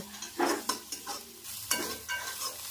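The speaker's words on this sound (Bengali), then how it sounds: "এবার আমি এগুলোকে ভালো করে মিশিয়ে নেব" Egg bhujia with meat masala and chopped coriander being stirred in a pan, a spoon scraping in short irregular strokes over a soft sizzle, close up, with no voices.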